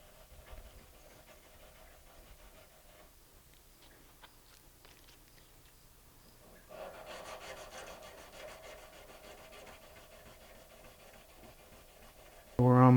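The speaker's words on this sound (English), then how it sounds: "We're almost finished here with the 1000 grit." Fine 1000-grit sandpaper rubbed on a guitar gives a quiet, steady scratchy swish with back-and-forth strokes, growing a little stronger partway through, with a louder knock at the end.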